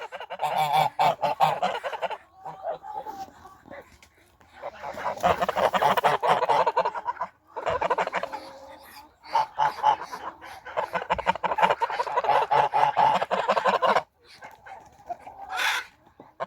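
Heavy-breed ducks and geese honk and quack loudly in repeated noisy bursts, close and crowded, with a dog barking among them and someone speaking briefly.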